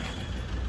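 Busy night traffic in Pune with a dense, steady rumble of buses and trucks close by, a brief continuous wash of engine noise.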